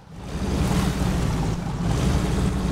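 A vehicle plunging into water in the video game SnowRunner, producing a steady, loud rush of sloshing water and low engine rumble that builds quickly and keeps going without a break.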